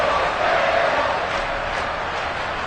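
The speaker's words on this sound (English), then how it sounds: "you got the crowd involved fully on their side in this ball game" A football stadium crowd at a Bills playoff game keeps up a steady, dense roar of cheering and noise that holds at an even level for the full stretch.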